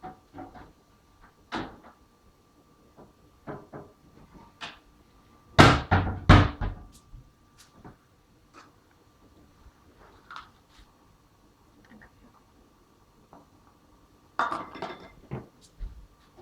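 A strainer is pulled from a kitchen cupboard in a home kitchen where buttermilk and butter are being made: scattered knocks, clinks of metal and glass, and two louder clattering bursts amid quiet pauses.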